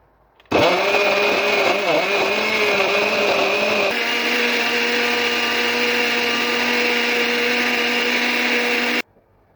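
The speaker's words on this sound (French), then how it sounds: "On doit passer au mixage." A blender mixes a clove infusion into a detox drink, its motor whirring loud and steady after a sudden start, then shifting to a higher, harsher pitch partway through before cutting off abruptly.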